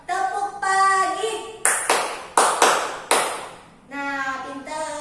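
Schoolchildren in a classroom clapping a rhythmic chant, several loud sharp group claps in a beat between sung or spoken voices.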